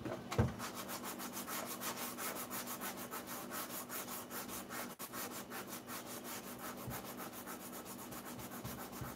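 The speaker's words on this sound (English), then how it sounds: "I'm going to take my little sand block and just sand that a little bit" A sanding block rubbed over a painted kitchen cabinet to distress the finish, making a steady, rhythmic back-and-forth scrubbing close to the mic for about nine seconds, with no talk.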